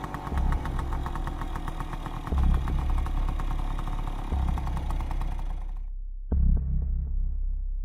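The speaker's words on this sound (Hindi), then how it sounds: "गुल्ली अपना स्कूटर पार्क करता है" A scooter engine runs at a steady throbbing idle, loud and close, with a couple of revs before it cuts off briefly and restarts near the end.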